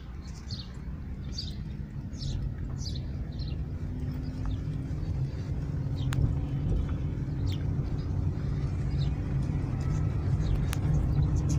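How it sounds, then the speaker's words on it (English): A VW e-up electric car coasting with the accelerator released, a steady low rolling and road rumble from inside the cabin that builds slightly, with faint chirps and a couple of light clicks on top. "now I lift off the accelerator and we can see that the car is rolling, is coasting without using any of the braking modes"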